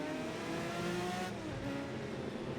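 A race car engine in the Project Cars racing game revs steadily with rising and falling harmonic tones, close and loud throughout with no talking.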